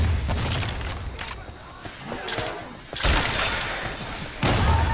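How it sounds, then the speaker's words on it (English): Video game grenade launcher, repeated heavy booming blasts and thuds in quick succession, loud and close, with players talking between the explosions. "Grenade launcher!"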